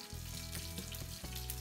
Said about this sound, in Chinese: 这鸡腿到底还要不要继续煎下去？